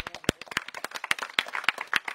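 A small group claps for a kitchen team at an international cuisine event, giving close, uneven individual claps with distinct sharp hits rather than a dense roar.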